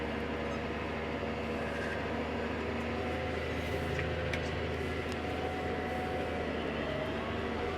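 A tractor in a hay field idles and drives, giving a steady, fairly faint mechanical drone and low rumble that holds constant with no voices over it.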